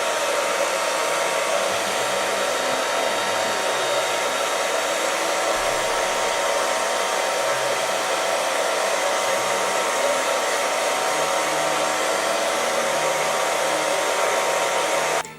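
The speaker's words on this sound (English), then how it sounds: "It's hair dryer time." A hair dryer blows steadily and loudly on an acrylic painting for about fifteen seconds, a constant broadband whoosh with no talk, cutting off abruptly at the end.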